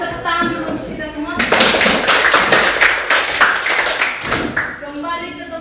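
A classroom of students bursts into applause together, a dense burst of clapping hands lasting about three seconds, with talk from a teacher before and after.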